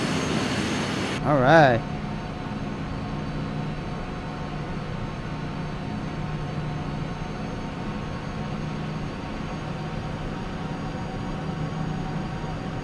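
Jet aircraft engine in the video game Flight Simulator X, a steady droning turbine whine spooling on a runway after a brief spoken word at the start.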